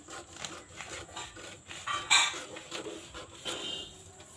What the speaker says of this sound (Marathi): कटोरी आपली जशी आहे तशी कट करून घ्यायची आहे